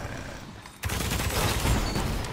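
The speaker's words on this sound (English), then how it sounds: "I thought I could get out of there before that rocket killed me" A rocket explosion killing a player in Destiny, a sudden loud blast after a quieter stretch, followed by sustained roaring, crackling debris and gunfire-like noise.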